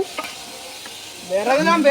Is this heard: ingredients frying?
yes